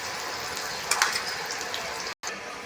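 Raw mango pieces hit hot oil in a tempering and fry with a steady, bright sizzle, a louder burst of crackling as they go in, then continuous frying.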